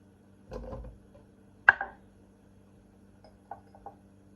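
A knife chops cucumber on a cutting board while a morning weight-loss drink is prepared, with a few sharp, separate knocks and some softer taps, close and quiet with no talking.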